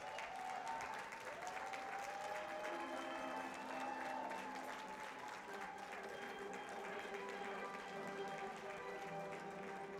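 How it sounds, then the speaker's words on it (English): A full room at an awards dinner applauds regional leaders in sustained, dense clapping that stays steady for about ten seconds, with faint crowd voices underneath. "let's give our regional leaders a round of applause"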